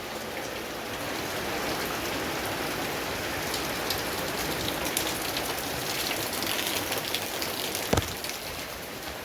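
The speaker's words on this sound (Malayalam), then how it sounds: "ആകെ കാറ്റ് മഴയാണ്" Heavy wind-driven rain pours down during a stormy Kerala monsoon day, a thick, constant roar of drops striking surfaces with a brief sharp knock near the end, loud and alone without speech.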